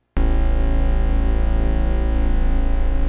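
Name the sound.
Korg Minilogue bass synth with sub added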